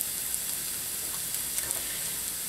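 Onions and peppers sizzle steadily in a cast iron pan, a soft, even frying hiss with faint crackles throughout, close by and without any voices.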